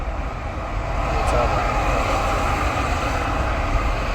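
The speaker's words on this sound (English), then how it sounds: "I hope you can hear me over the sound of traffic." Steady roar of passing traffic, a continuous broadband rumble close by that swells slightly, with a voice partly buried beneath it.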